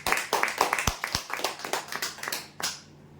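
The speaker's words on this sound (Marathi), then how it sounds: "जोरदार टाळ्या हव्या त्यांच्यासाठी" Scattered hand claps from a small crowd at a weekly prize draw, with distinct sharp claps in an uneven rhythm, fairly close, tapering off near the end.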